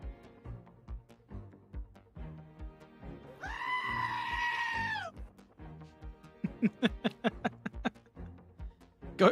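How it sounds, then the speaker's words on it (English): A goat gives one long, wavering, nasal bleat of about a second and a half, clear and close, set between bursts of rhythmic tapping and clicking. "Goats are awesome"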